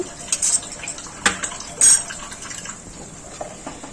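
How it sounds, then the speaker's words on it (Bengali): A bowl is rinsed and a little water splashes into a pan while cooking potato dum with pineapple; short clinks of crockery and brief water sounds arrive in a few separate bursts, close and moderately loud, with no talking. "আমি বাটিটা ধুয়ে একটু জল দিয়ে দেবো সামান্য"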